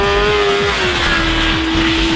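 A 2009 Kawasaki ZX10R sportbike screams along a race track at high revs. The engine tone is loud, close and continuous, with a slight pitch shift partway through and no talk.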